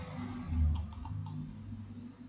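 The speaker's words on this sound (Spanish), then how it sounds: "Hago un clic aquí y le pongo el mismo efecto" A computer mouse gives a quick run of four or five light, crisp clicks close by in a quiet room, followed by one more isolated click.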